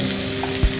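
Pieces of boiled taro root (chamadumpa) fry in oil in a pan with a steady close sizzle and a brief stirring scrape near the end, with no voices.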